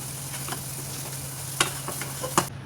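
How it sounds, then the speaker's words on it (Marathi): Semolina sheera with cardamom and dry fruits is stirred in a pan, giving a soft steady scrape under a low hum, with a few sharper spoon knocks near the end and no talking. "आणि हे सर्व एकदम छान असं मिक्स करून घेणार आहोत।"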